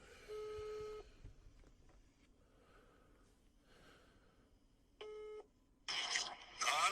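A phone call is dialed back: two short electronic beep tones, then a harsh burst of ringing or connection noise at the end, with quiet room sound between.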